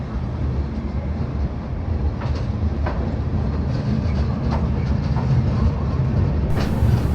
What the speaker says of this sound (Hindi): तो हमारी ट्रेन जो है वो अब न्यू दिल्ली के लिए रवाना होने के लिए तैयार है।